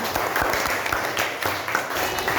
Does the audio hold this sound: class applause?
yes